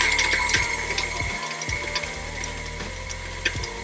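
Stand mixer running on low while mixing scone dough with heavy whipping cream and vanilla, a steady mechanical whir with rhythmic clicking and knocking as the dough turns, close and moderately loud.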